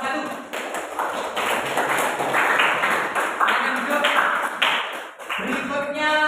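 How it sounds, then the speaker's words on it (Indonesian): A classroom applauds a student group with a lively run of clapping, fairly close and lasting several seconds, with a teacher's voice speaking over the start and end. "tepuk tangan untuk kelompok 1"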